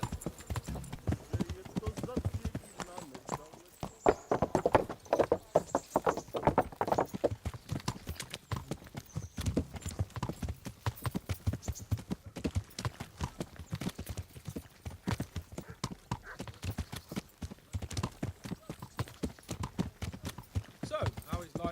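Horse hooves clip-clop steadily during riding in a medieval video game, a continuous rhythmic patter running under two characters' conversation.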